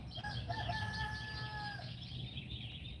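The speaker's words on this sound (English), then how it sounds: "These roosters are I mean, they are super, super talkative right now." A rooster crows in a long drawn-out call, followed by clucking from other fowl, all moderately distant against a steady background murmur.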